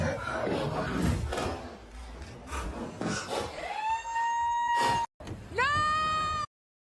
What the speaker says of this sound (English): hearing the woman screeching like that for a long period of time and being dragged out was not pleasant.